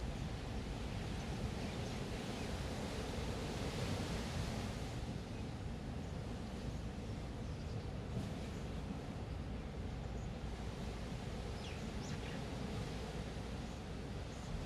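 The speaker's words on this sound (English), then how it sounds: "I try to speak in between the sound of waves." Ocean waves wash onto the shore in a steady, unbroken roar that carries on without a pause, with no voices.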